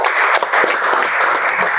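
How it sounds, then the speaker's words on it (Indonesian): A classroom of students claps together, giving a short, dense burst of applause that stays steady and close throughout. "Tepuk tangan semuanya."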